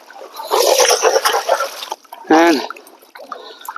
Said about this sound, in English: So I'll put this back down in the water, get my angle back up, give it a good shake,